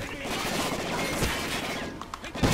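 Shotgun fire in the video game Call of Duty Ghosts crackles in a dense, continuous burst of rapid shots and explosions, loud and close, with a few sharper blasts near the end.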